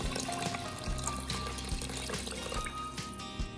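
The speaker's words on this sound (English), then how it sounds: "last thing in our pot is gonna be 4 cups of water" Water pours into a pressure cooker pot holding corned beef and spices, a close, gurgling, splashing stream with small bubbling pulses, continuous throughout with no talking.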